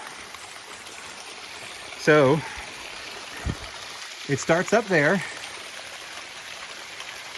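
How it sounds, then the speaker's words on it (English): Water from a small cascade waterfall runs down a carved rock crevice in a steady, close trickling stream, with a voice speaking briefly over it partway through. "what you actually find behind that is a smaller cascade slash waterfall"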